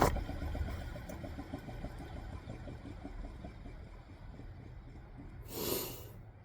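An old, worn-out car alternator is spun by hand in a home garage, giving a low rough whirring rumble with faint rhythmic grinding that slowly fades, then a short breathy rush near the end.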